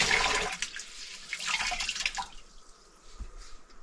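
Water rushes and drips inside a toilet under repair, a steady hiss and trickle that fades out after a couple of seconds, close by and fairly quiet.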